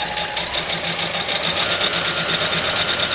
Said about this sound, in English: this is the top I'm sewing on, and then I'll sew on the bottom,